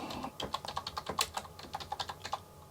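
Quick, irregular keystrokes on a computer keyboard for the C64U, a Commodore 64 style machine, rattle close up in bursts of clicks with brief pauses, without any voices.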